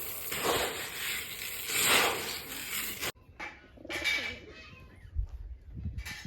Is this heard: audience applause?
no